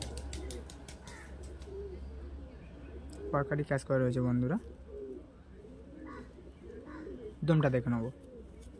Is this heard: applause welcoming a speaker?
no